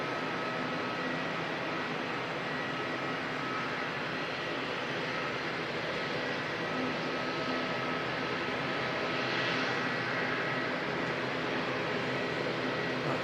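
Aircraft engines at Auckland Airport, a steady, loud, broadband roar with a faint whine that holds the whole time and swells a little near the end, with no talk over it.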